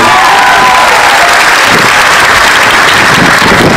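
A church congregation claps loudly and continuously during Mass in Jaibaras, a dense, even roar of hands with a faint tone fading beneath it.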